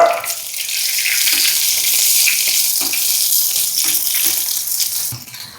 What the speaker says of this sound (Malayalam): ഒന്ന് വെണ്ടക്കായ ഒന്ന് വഴറ്റിയെടുക്കാം കേട്ടോ.